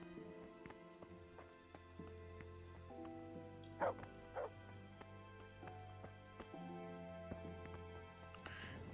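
A dog in a medieval game world barks a few times, with sharp yips near the middle, over a quiet sustained musical score and a soft steady background.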